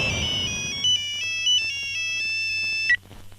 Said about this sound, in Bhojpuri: मंत्री जी का फोन था, मैं बाद में तुमसे मिलता हूँ।